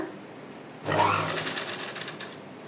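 A sewing machine stitches fabric piping, starting abruptly after a quiet moment and then running in a steady, moderately loud hum with a light rhythmic clatter until the end.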